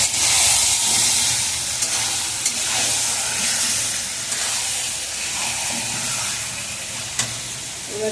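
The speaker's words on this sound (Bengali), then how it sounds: "মশলা মাখা মাংসটাকে আমি ঢেলে দিলাম। আমি এবার মাংসটাকে ভালো করে কষিয়ে নেব।" Spiced chicken meat sizzles and hisses steadily in a hot pan while being stirred and browned, a loud continuous fry with a few brief clicks from the utensil.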